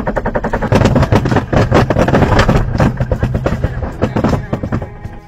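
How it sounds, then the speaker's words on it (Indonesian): A CVT automatic car that judders and shakes gives off a loud, harsh noise from its engine block: dense, rapid rattling and knocking bursts that run continuously and close-up for several seconds. "Yang disertai adanya suara keras dari bagian blok mesin."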